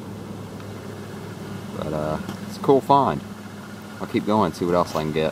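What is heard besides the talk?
road traffic noise, cars passing nearby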